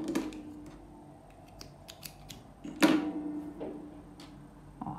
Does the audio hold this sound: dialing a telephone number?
no